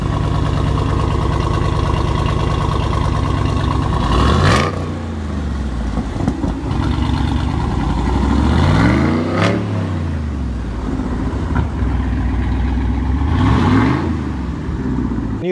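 A V8 engine idles loudly up close, then revs in several rising and falling sweeps, with a steady throb between the revs.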